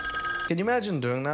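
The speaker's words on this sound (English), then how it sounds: "Oh, the phone's ringing." A telephone bell rings briefly before a person starts talking, the ringing then fading under the voice.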